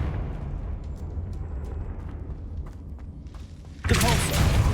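A Confringo blasting spell explodes in the Hogwarts Legacy video game: after a stretch of low rumbling game ambience with faint clicks, a sudden loud, broad blast erupts near the end and roars on until the clip stops.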